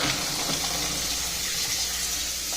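Cold water runs from a tap into a bowl for cleaning mussels, a close, steady gushing and splashing stream that continues evenly throughout with no voices.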